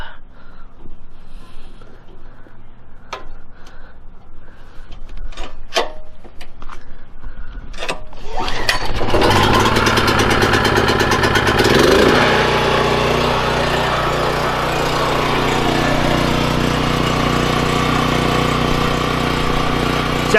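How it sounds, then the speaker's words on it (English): A Predator 4375-watt portable generator fires up after a few scattered clicks and knocks, then settles into a steady, close engine drone that carries through the rest of the clip. "It runs. It's actually, it's pretty damn quiet."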